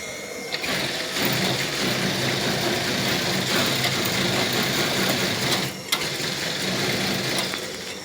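In a nightie factory, a sewing machine stitches lace nighties with a steady, fast mechanical whir, running continuously with one brief pause amid workshop background noise.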